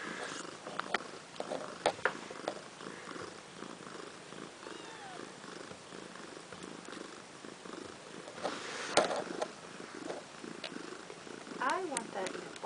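One-day-old kittens squirm and squeak while jostling at their mother's nipples, with soft purring and rustling throughout and people talking over them.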